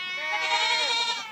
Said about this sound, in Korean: 염소들이 있어요.